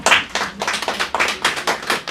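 Clapping from a forum audience at an overseas Korean patriotic forum, a brief burst of close, steady hand claps with no talking over it.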